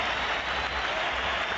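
Barcelona supporters in a stadium's top tier at a Real Madrid versus Barcelona match applaud in a faint, distant, steady wash of clapping with no voices over it.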